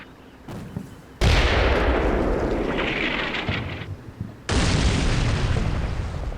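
Gunfire and artillery in the Combat Mission Black Sea war game: heavy booming blasts with long rumbling roars, a sustained loud barrage, a brief lull, then another powerful explosion rolling on.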